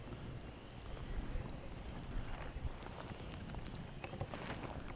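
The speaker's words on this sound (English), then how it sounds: "The wind's blowing a little bit." Wind blows steadily outdoors by a pond on a quiet evening, a broad rushing buffet across the microphone with a few soft gusts and faint ticks, with no one talking.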